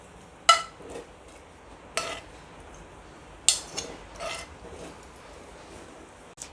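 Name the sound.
masala spooned into a mixer grinder jar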